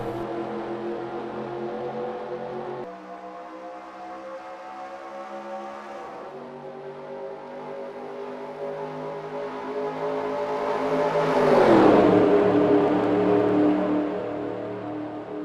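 Engines of a field of sim race cars in a racing video game, rising together at the green-flag start: a steady loud drone that swells and climbs in pitch toward the end, with no talk.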